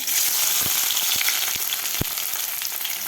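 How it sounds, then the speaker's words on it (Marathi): Thinly sliced onion frying in hot oil in a kadai gives a steady, close hiss of sizzling, broken by a few faint clicks and pops. "तेल आपलं गरम झालेलं आहे तर यामध्ये आपल्याला घ्यायचा उभा कापून घेतलेला कांदा"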